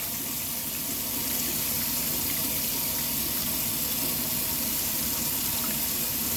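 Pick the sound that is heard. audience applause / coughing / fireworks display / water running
water running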